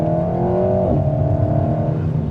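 Close engine note of an Alpine A110 in manual mode, climbing in pitch under revs, dropping sharply with a gear change, then holding a steady drone.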